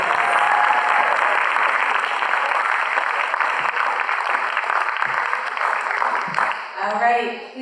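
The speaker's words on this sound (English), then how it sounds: "One more round of applause for these groups." Sustained applause fills a room after a school debate, a dense steady clapping from the audience that fades out as a voice begins at the end.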